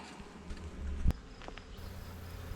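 A steady low buzz of honey bees hums throughout, like a swarm nearby, with one sharp knock partway through, during a bee removal from a barn.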